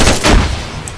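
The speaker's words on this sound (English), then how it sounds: "That was a grenade, okay." A grenade going off in the Arma 3 East Wind campaign, one loud broadband blast with a heavy low thump that rolls into a decaying rumble over about a second, close by and with no talking.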